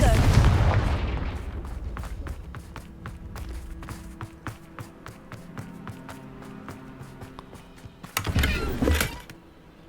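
Confringo fire spell cast in Hogwarts Legacy, heard as a string of sharp, evenly spaced cracks and pops followed by a louder whooshing burst near the end, with a voice speaking at the start.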